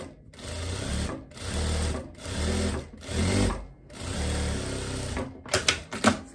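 A domestic sewing machine stitches a short seam across folded fabric, running in about five steady bursts separated by brief pauses, followed by a few sharp clicks and taps at the end.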